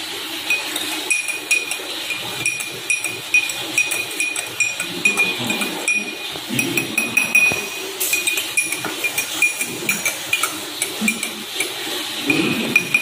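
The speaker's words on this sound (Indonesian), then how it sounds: "Sekarang mari kita aduk." A spoon stirs sugar into water in a glass, producing rapid repeated light clinks and taps against the glass, close and fairly loud, over a faint background hum.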